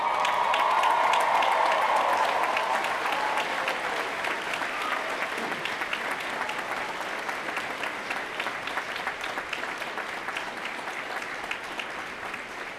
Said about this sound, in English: give a round of applause to those who helped you on this journey